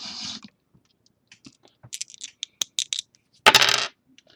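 Two dice are rolled and tumble across a hard surface in a quick scatter of small clicks and rattles, ending in a louder clattering burst.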